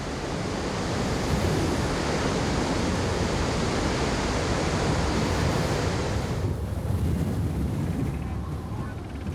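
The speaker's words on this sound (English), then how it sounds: "They whip up the biggest waves in the world." Huge ocean waves whipped up by the westerly winds roar in a loud, continuous wash of surf and gusting wind, easing slightly in the final seconds.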